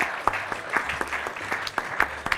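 An audience at an event gives a round of applause, a short burst of clapping from a modest crowd, close and lively, fading as the clip ends.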